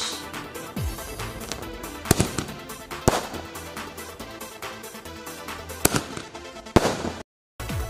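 Mini aerial fireworks shooting off, with sharp bangs and pops at irregular intervals over a continuous crackling hiss, heard alone at moderate distance.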